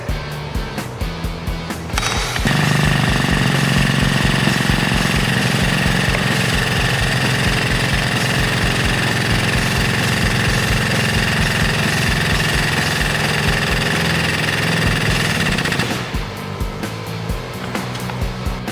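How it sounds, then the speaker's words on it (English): Hydraulic cylinder on a Tiger Tool 15040 pressing an Intraax tri-functional trailer suspension bushing, driven by a steady loud pump or compressor that runs continuously for about thirteen seconds, then cuts off, with quieter machinery before and after. "And then we'll apply the hydraulic pressure again."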